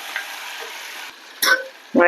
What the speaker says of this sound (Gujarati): વટાણા ને વાલોડ સારી રીતે મિક્સ કરી લેશું